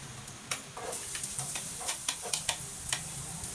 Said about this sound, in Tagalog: Igigisa lang natin yung bawang sibuyas at luya.